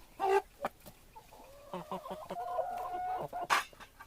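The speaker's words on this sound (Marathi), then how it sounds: "हे आहेत आमचे कोंबडे" Village free-range chickens and roosters cluck in short bursts close by, with a few sharper squawks mixed in over a quiet farmyard background.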